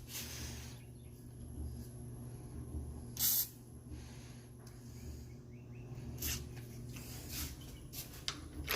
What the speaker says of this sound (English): let's get in a couple more sprays